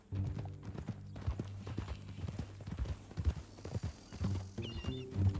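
Horse hooves clip-clop steadily in Red Dead Redemption 2, quiet and fairly close, with an irregular walking rhythm and low game ambience underneath.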